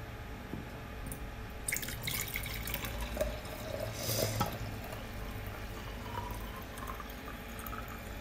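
Just-boiled water poured into a bowl gives a soft, continuous trickling splash with a few drips, heard fairly quietly and close by, with no voices.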